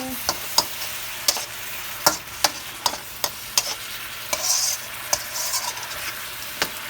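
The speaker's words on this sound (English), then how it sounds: "you want to just go ahead and add some more sauce in there. Mix it together." A spoon knocks rhythmically against a pan while teriyaki sauce is stirred into sizzling chicken and shrimp stir fry, sharp taps about every half second over a continuous frying hiss, close by.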